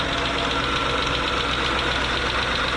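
A 2013 Hyundai Equus 5.0L GDI V8 running at idle, a steady close engine drone with a fine ticking, knocking texture and even vibration, no talking.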